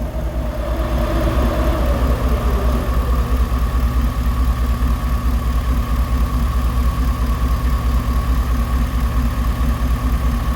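Radiator cooling fans run on a 2001 Chevrolet Silverado with a swapped 5.3-liter engine, a loud, steady whooshing roar with a low engine hum beneath, constant and close for the whole stretch, no talking.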